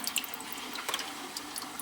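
Steady running water from an aquarium filter drawing in water, with light gurgling and a few small drips, a continuous watery trickle close by.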